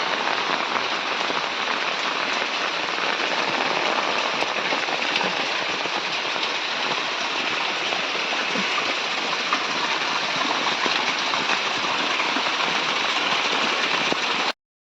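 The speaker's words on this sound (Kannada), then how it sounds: "ಅಷ್ಟು ಮಳೆ ಬರ್ತಾ ಇದೆ" Heavy rain pours down in a dense, unbroken hiss, loud and close, lasting the whole time without any voices.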